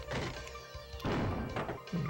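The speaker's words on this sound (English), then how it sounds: "Whoa, a cannon." A cannon firing in the Battle Pinball video game on 3DO, a sharp crashing blast partway through over busy game sounds, followed by further thumps.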